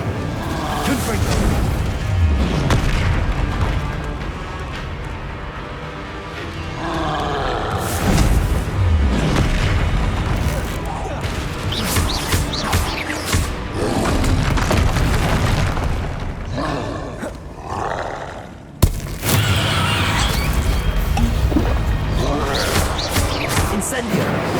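Repeated fiery Confringo blasts from the video game Hogwarts Legacy boom and crash throughout, one explosion after another in a steady barrage, with voices calling out amid the bangs.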